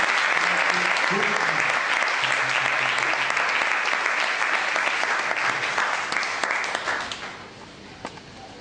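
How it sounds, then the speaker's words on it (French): Audience applauding a reverend missionary guest at a Bible college graduation ceremony, a steady dense roar of clapping that holds strong for about seven seconds before thinning out, with a faint voice heard briefly early on. "vos applaudissements, Alvin Guzman"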